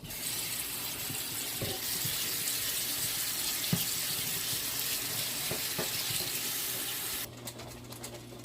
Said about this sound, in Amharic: በቀዝቃዛ ውሃ ለቅለቅ ማድረግ አለብኝ።